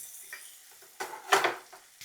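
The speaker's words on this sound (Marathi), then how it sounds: "ही शिमला मिरची घालू आणि याला छान असं 2-3 मिनटं परतून घेऊ." Finely chopped bell pepper sautéing in a pan: a low sizzle broken by a few bursts of louder stirring and scraping, the strongest in the middle, with no talking.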